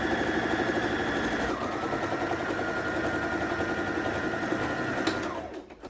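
A sewing machine runs steadily as it stitches down the back seam of a sleeveless pleated short gown, a close, continuous rapid whir that holds its pace and then stops near the end.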